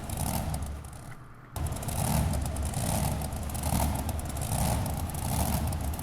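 Monster truck engines in the BeamNG video game, a brief quieter moment then a loud rumbling roar that holds steady with pulsing revs, dense and close, with no talk.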